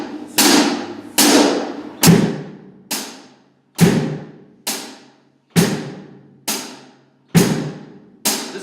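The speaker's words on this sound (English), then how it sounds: "Listen to that bass drum." A drum kit's bass drum is struck in steady quarter notes at a slow, even pace, each hit a sharp, punchy thump with a bright splash of attack that rings briefly before the next, close and without talk.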